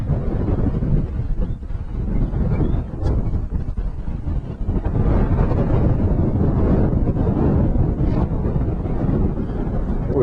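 Strong wind buffets an open fishing boat on the Delta, a continuous low roaring rumble with gusty swells and faint water and hull noise underneath.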